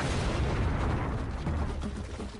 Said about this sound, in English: the largest cannon that had ever been built was put to devastating effect